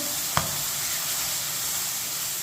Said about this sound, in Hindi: आधी कटोरी दही डाल लेंगे